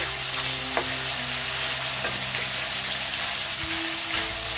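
Four pieces of katla fish fry in a pan with a loud, constant crackling sizzle like heavy rain, close by, with faint clicks of a spatula now and then.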